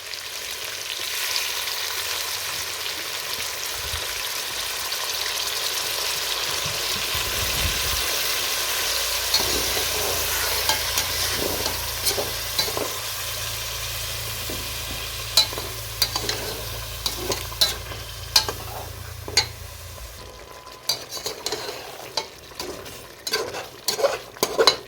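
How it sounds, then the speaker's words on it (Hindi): Chicken biryani masala fries in a pan with a steady broadband sizzle while a utensil stirs it, the scraping becoming sharper and more clattery toward the end; no one speaks. "अब इसे फ्राई करना है अच्छी तरह।"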